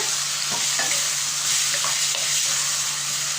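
Tomatoes sizzle and crackle in a pan for a country chicken curry, stirred continuously with a steady frying hiss and soft scraping, alone and fairly loud.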